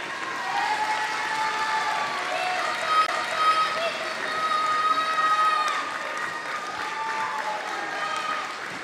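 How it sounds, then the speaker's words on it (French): A crowd at the Miss Excellence Picardie beauty pageant applauds male models as they are called onstage, with sustained clapping and some cheering rolling through a hall over steady background music. "Vous pouvez les applaudir."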